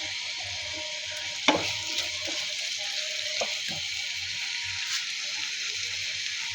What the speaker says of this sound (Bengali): পেঁয়াজের সাথে টমেটো এরকম করে ভেজে নিয়েছি